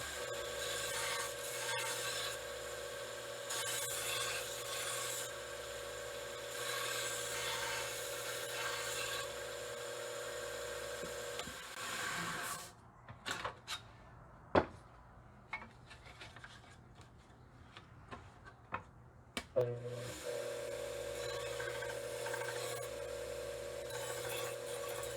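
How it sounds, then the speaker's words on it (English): A knife edge being reset by rubbing it along a honing rod or sharpening surface, a steady rasping scrape under a continuous machine hum, with a pause of sparse, scattered scrapes before the steady sound resumes. "Let's go ahead and reset our edge, sharpen it one more time"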